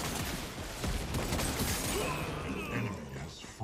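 Rapid gunfire from the hero Twinblast in the PS5 game Predecessor, a dense clattering volley with crackling impacts and mechanical clicks, loud and continuous across the moment.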